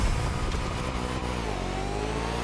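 Car engine sound from The Crew Motorfest racing game with the Retro Engineering audio signature, a steady dense engine drone at constant level with no talk.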